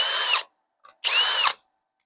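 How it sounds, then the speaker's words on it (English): A power drill with a drill bit deburring a part on a 1971 Datsun 510 during restoration: two loud, steady whirring bursts of about half a second each, separated by a brief pause with a small blip, close up and with no talk. "I'm just going to deburr this a little bit with the drill bit to try and get all the extra junk off of there."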